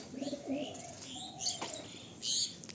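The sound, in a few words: pigeons cooing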